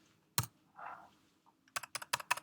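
Short bursts of keystrokes on a computer keyboard in an office: one sharp click, a brief pause, then a quick run of four or five close, crisp taps.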